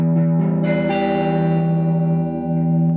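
A sustained electric guitar chord with heavy effects and distortion, ringing out with a deep low note and slowly decaying over a few seconds.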